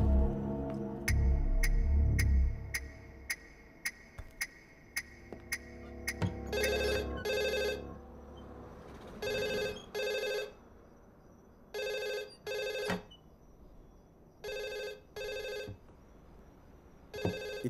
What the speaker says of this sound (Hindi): तुझे फोन की घंटी सुनाई नहीं दे रही है ना?